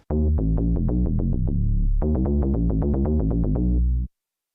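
Deep synth bass notes are triggered on MPC Live sampler pads in quick succession, punchy and loud, with a sustained low tone briefly in the middle before another rapid run.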